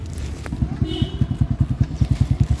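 A motorbike pulls away from a farm, its low engine putter settling into a fast, regular thumping beat close by, with a voice speaking at the start.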